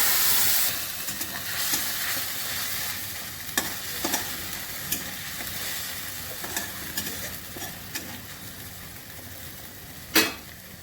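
A ground paste of onion, tomato, cashew, green chilli and garlic sizzles and fries in a pan of oil spiced with cumin, a steady hiss with occasional stirring clatters close by.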